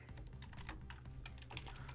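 Keys clatter on a computer keyboard in a quick, uneven run of close, light taps, with no talking over them.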